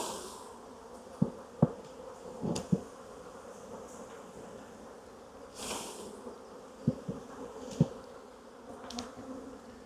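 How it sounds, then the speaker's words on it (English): Honey bees buzz steadily around an open hive during queen rearing in summer, a continuous droning hum with occasional louder close passes and soft clicks and thumps from hive handling. "Shake some bees in."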